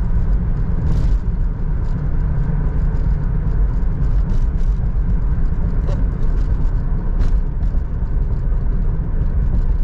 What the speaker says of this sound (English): you guys can hear the car went into overdrive just fine